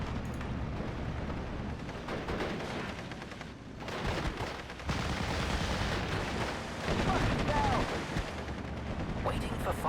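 Bombs raining down in the WWII strategy game Steel Division: Normandy 44, with dense, continuous rumbling blasts and gunfire layered across the whole stretch, loud and sustained with no pauses.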